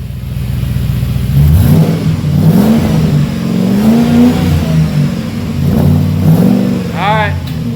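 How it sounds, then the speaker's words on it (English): A Jeep Grand Cherokee WJ engine revs up and down in several rising and falling pulls, loud and close, with a person talking over it. "Give it a little gas."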